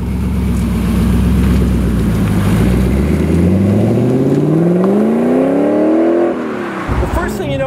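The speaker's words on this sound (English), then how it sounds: "Driving the Spyker." A Spyker C8 Spyder sports car is driven, its engine droning loud and close and rising in pitch as it accelerates through the gears, then easing off near the end.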